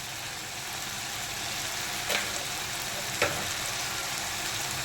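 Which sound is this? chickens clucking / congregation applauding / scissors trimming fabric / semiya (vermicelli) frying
semiya (vermicelli) frying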